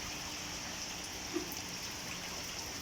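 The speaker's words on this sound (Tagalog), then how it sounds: "At patuloy pa rin na umuulan-ulan guys." Steady rain falls during flooding, a constant even hiss with no break, a single faint drip or tap near the middle.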